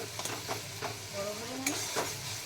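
Thick masala paste for a katla fish curry sautéed in a pan and scraped with a spoon, a close, steady low sizzle broken by several short stirring scrapes over about two and a half seconds, with no talk.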